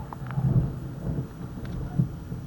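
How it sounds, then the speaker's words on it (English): Low, distant thunder rolls and grumbles as a storm approaches, a soft swelling rumble that fades slightly and then returns, heard alone with no rain. "Right now it's just thundering and really giving us a nice lightning show."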